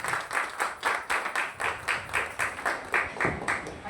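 Audience at a business opportunity presentation clapping to welcome a speaker onto the stage: steady, rhythmic group applause with about a dozen even beats in four seconds, close and moderately loud, with no talking.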